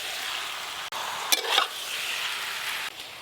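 Chicken and elephant foot yam being stirred and mixed in a pan with cumin powder, a soft steady sizzle broken by a few scraping stir strokes and a brief clatter, fairly quiet and without talking.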